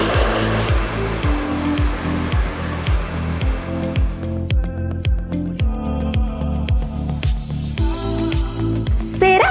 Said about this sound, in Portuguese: E agora vamos partir logo pro secador